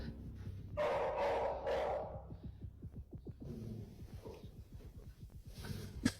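Josie the dog barks and growls indoors at an empty closet, starting with a loud harsh burst, then running into a rapid rhythmic series of snorting, huffing pulses, close to the mic.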